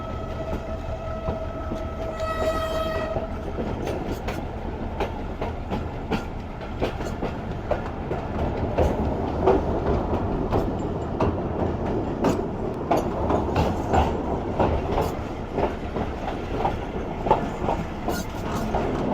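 A train in heavy fog nears Ruk railway station, its horn sounding briefly at first before a long stretch of steady rumbling and rhythmic clickety-clack from the wheels, close and without talk.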